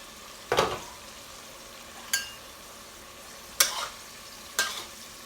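Tofu seasoned with salt and black pepper is stirred in a frying pan, giving four separate scraping strokes against a low, steady sizzle, with no talking.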